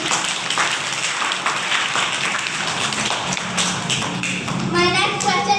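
An audience claps steadily for Team B at a school quiz competition, a dense continuous patter of hands that fades into talk at the end.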